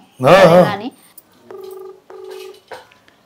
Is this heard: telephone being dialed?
yes